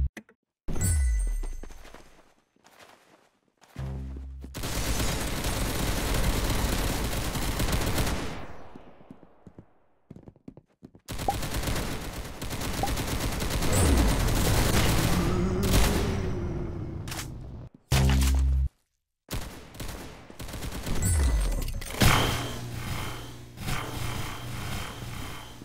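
Gunfire in the video game Arsenal: several bursts of rapid shots with loud, dense blasts, broken by short pauses and quieter moments, plus some thuds and footstep-like sounds.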